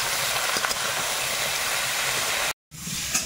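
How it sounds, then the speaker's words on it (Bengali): A pan of mixed vegetables, including red amaranth leaves and spinach, sizzles with ghee and salt in a constant close, loud hiss that cuts out briefly near the end before resuming. "সবগুলো এইভাবে ভেজে নেব"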